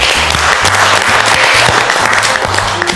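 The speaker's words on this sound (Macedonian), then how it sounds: "Голем аплауз Златко Пејковски." Sustained audience applause for a chef on a Macedonian cooking reality show, loud and steady throughout with low music tones underneath.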